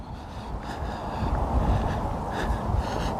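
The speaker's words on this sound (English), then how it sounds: "and it's windy" Steady wind gusting outdoors beside the River Tone in Somerset, a broad low rumble of buffeting air against the microphone that swells and eases over a few seconds, with no voices.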